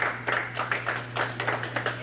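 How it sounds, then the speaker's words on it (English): Studio audience claps on a 1989 bowling television show, a short burst of fairly close, rhythmic hand claps over a steady low hum. "Big round of applause."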